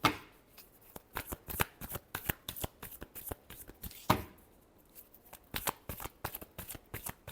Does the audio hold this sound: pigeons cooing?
no